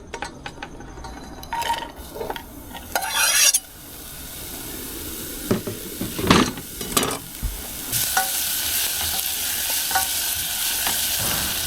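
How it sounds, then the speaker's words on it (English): Jalapeno sauteing in a pan on medium heat: scattered utensil scrapes and clinks give way to a steady, broad sizzling hiss that fills the latter half. "On a medium heat, I'm gonna saute my jalapeno a little bit just to soften it up"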